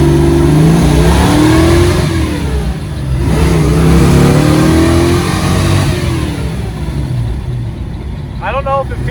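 Car fitted with a T5 manual transmission pulling hard on a test drive, its engine drone rising and swelling steadily and loud for several seconds, with people talking inside the cabin over it.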